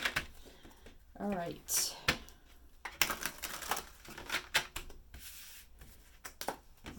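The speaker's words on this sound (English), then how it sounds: "Sorry about the shuffling, but it's tarot" Tarot cards are shuffled by hand in bursts of quick riffling and papery flicks, close and intermittent, with a person speaking between and over the shuffles.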